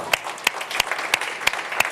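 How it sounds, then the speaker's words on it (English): An audience at a veterans' event claps for a man, though only a few sharp, evenly spaced claps stand out over a soft background of scattered clapping. "You deserve a round of applause"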